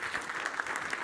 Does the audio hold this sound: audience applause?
yes